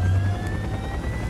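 A steady mechanical whine with a low droning rumble as helicopter rotors spin up in the video game Call of Duty: Black Ops, continuous and fairly loud throughout.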